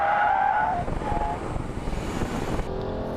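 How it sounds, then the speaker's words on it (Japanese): A car brakes hard, its tires squealing loudly for a few seconds against the road, with a rumbling engine underneath, as a Honda Legend Hybrid and Lexus LS600h are put through driving tests. "キャーッとブレーキかけてるね。"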